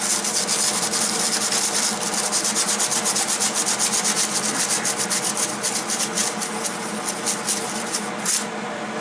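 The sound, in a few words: scuffing metal around a broken exhaust bolt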